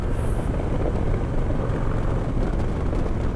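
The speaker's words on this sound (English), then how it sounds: "Oh, listen to that motorcycle." A motorcycle goes by outdoors with a loud, continuous, broadband engine roar that stays strong and steady across the short stretch, alone with no talk over it.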